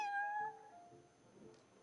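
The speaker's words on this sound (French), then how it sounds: "Ah non, c'est le chat, ok." A cat meows once in Genshin Impact, a clear, close, drawn-out tonal call lasting about half a second, followed by a quiet backdrop.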